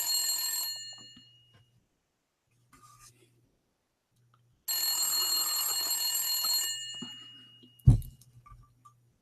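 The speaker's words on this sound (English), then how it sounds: "Let us call Zakir Naik" An old telephone rings in two long, loud bursts separated by silence, followed by a sharp clunk near the end.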